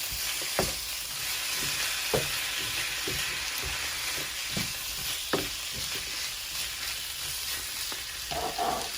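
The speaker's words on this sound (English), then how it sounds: "Give this a nice stir." Diced tomatoes, red pepper flakes and paprika are stirred into a sizzling chicken and chorizo paella pan, a constant frying hiss broken by sharp spoon scrapes and knocks at irregular intervals.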